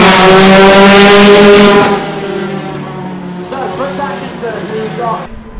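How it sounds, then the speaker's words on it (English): Rallycross race cars roar past loudly at a Red Bull Global Rallycross event in Memphis, a strong harmonic engine drone for the first two seconds, then fading to a lower rumble with crowd noise and people talking. "Cars are super loud. Cars are super fast."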